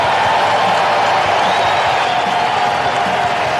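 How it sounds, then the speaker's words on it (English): A baseball crowd at a Nationals–Pirates game rises in a standing ovation for a pitcher, a steady, loud wash of applause and cheering from the stands. "he gets a deserving standing ovation"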